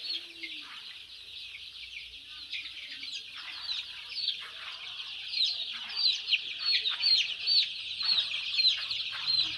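A dense flock of Sonali chickens on an 800-bird poultry farm keeps up steady overlapping clucks and chirps, growing slightly busier and louder toward the end, with no talk over it.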